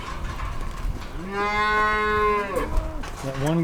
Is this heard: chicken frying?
no